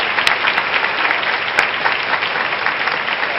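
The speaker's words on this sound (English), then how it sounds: "I think they should deserve a louder round of applause" A school speech-day audience at St. Mark's School gives a loud, sustained round of applause, thick and even from start to finish.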